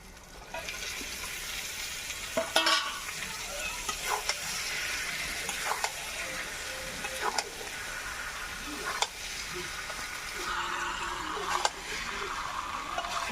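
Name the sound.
boiled chicken poured into pan, sizzling and stirred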